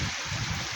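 A mountain creek flowing in the hills above a lake in West Kelowna, British Columbia, giving a steady broadband rush of water, close and fairly loud, across a very short moment with no talking.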